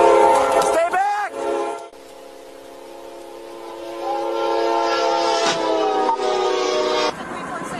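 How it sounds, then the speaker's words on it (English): A loud train horn blares in long sustained tones as a train rumbles by nearby after striking a patrol car, with shouting voices briefly at the start. "The 346 patrol car was just hit by a train."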